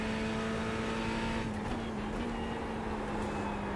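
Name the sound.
Ferrari GT3 race car engine in iRacing video game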